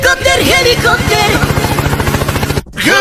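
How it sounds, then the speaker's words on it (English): A helicopter in the Chicken Gun video game gives a steady, rapid rotor chop for most of the moment, mixed with other game sounds and voices, then cuts out briefly near the end. "Helicopter, helicopter."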